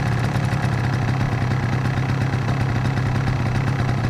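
Small two-stroke engine idling steadily with the choke fully open, a close, even running note with a regular rhythm and no gaps or sputters.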